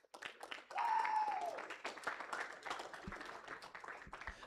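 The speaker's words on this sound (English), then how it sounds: "let's all give Strike one more round of applause" Applause and clapping from a crowd, steady and moderately loud for a few seconds, with a voice briefly over it.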